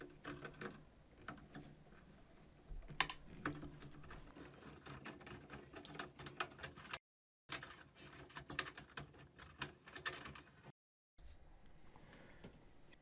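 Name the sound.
removing screw from HP Envy desktop computer panel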